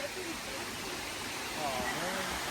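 A waterfall at Natural Bridge State Park in Virginia rushes as a steady, even hiss of falling water, with faint bird chirps over it.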